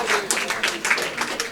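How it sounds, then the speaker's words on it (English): Audience applause at a billiards championship awards, with uneven bursts of clapping from a crowd in a hall over about a second and a half. "How about one more round of applause for Jeff Platel"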